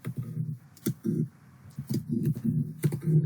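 A command is typed on a computer keyboard in the Windows command prompt, with uneven bursts of fairly close key clicks and pauses between words.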